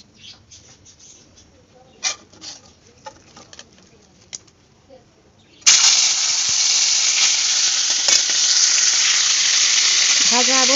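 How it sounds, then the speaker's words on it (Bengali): Tilapia fish frying in a pan in a home kitchen. After several seconds of quiet clinks and faint background sounds, a loud, continuous sizzle starts abruptly and holds steady to the end. "ভাজা বসিয়ে দিয়েছি"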